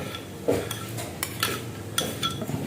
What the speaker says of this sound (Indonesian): setelah itu kita kocok kembali sampai tercampur merata ya. Nah, kita aduk perlahan-lahan seperti ini aja.